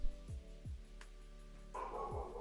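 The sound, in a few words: dog barking in the background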